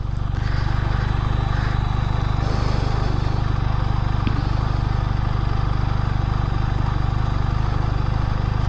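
A QJ SRK400 motorcycle rolls slowly in second gear at very low speed, its engine giving a steady low, throbbing drone close by. There is no talk over it.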